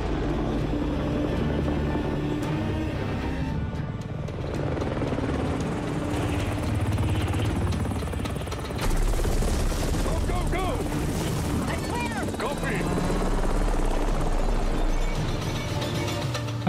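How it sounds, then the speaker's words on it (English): A video game helicopter's steady rotor drone runs throughout, loud and continuous, with some clattering, chirping effects layered on top midway. "I feel like a helicopter like that is very noticeable from a mile away."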